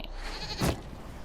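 Goat bleating in a video game, a single short, loud bleat that bursts out midway over a quiet game background.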